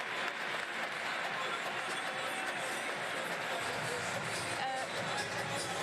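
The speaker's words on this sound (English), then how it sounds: "He gets his crowd fired up." Spectators at an indoor athletics meet in Bordeaux clap steadily for a pole vaulter, a broad rolling wash of applause and crowd noise that holds for several seconds with a low rumble beneath it.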